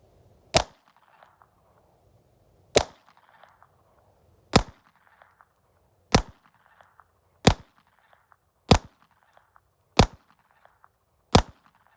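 Eight sharp pistol shots from a Walther PPK .32 ACP fired one-handed, each a loud crisp crack at an even interval of roughly one and a half seconds, with quiet gaps between.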